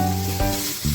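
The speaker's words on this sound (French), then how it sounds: "Je vais laisser ma viande dorer." Meat browning for a peanut sauce sizzles and crackles steadily in a saucepan over medium heat, a close, continuous frying hiss with a brief stir-like shift partway through.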